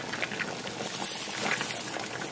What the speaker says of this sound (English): We already got some flour tortillas frying up on the pan.